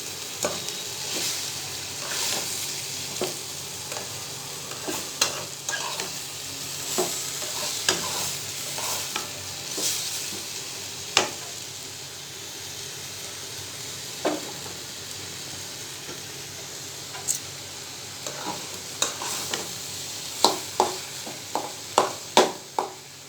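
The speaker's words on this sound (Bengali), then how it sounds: "এটাকে নেড়ে চেড়ে একবার ভাজি ভাজি করে নামিয়ে ফেলবো" Vegetables stir-fried in a pan for a Bengali bhaji, with a steady soft sizzle under repeated scraping and clicking of the stirring utensil, the clicks growing quicker toward the end.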